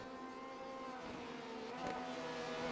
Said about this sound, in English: it looks like Mohaimin manages to get the Porsche ahead of the Ferrari at the Porsche curves.